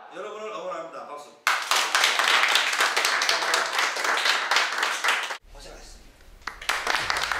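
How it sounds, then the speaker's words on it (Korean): Audience applause at a cleaning vocational academy, a dense burst of clapping that starts abruptly after a spoken line, holds steady for several seconds, then cuts off as talk resumes. "박수."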